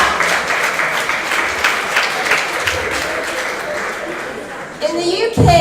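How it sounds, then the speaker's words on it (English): An audience at a research speed-dating session breaks into sustained clapping that holds steady for several seconds, then thins out as a voice starts speaking near the end. "Everyone, give yourself a round of applause"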